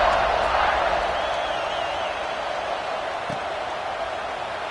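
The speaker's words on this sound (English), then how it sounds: "this crowd is buzzing after that last score" A football stadium crowd in a video game buzzes in a dense, continuous roar throughout, loud and even with a slight fade.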